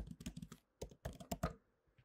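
Quick bursts of keystrokes on a computer keyboard as a command is typed, close and crisp clicks in two short runs separated by a brief pause, with no talk.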